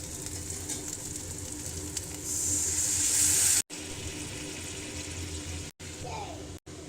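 Water is poured into a pan of sizzling spice masala for a pomfret jhal, producing a brighter hissing surge for about a second before settling back into a steady background sizzle, with brief dropouts.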